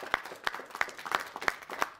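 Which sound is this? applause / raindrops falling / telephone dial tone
applause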